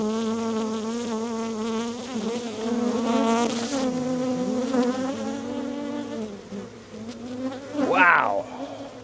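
Honeybees from a swarm drone and buzz loudly around an opened hive. The dense, wavering hum continues throughout while excited voices speak over it.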